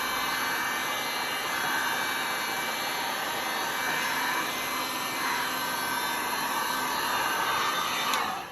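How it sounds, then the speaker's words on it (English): A heat gun blows straight down onto poured resin, a steady, loud, even rush of hot air that holds without a break from start to finish. "I'm not tilting the heat gun and trying to blow the resin in any particular direction."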